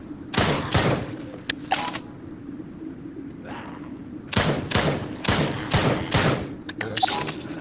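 Gunfire from the video game Drop Dead: Dual Strike comes in loud, close bursts of sharp shots with thumping impacts, first a rapid cluster, then a pause, then another volley of several shots.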